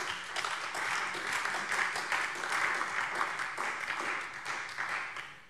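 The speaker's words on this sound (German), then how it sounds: "Applaus" Applause breaks out in a parliamentary plenary session in the Hessian state parliament, a steady, moderately loud patter of many hands from the assembled members, sustained for several seconds without a break.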